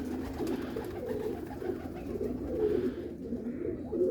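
A female Jonsiry breed pigeon kept for breeding coos steadily and close by, a low throaty warble that rolls on without a break, with no talking.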